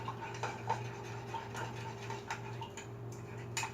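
Lime juice and honey stirred together in a container, a faint series of light scraping and clinking taps of a utensil at an irregular rhythm over a low steady hum.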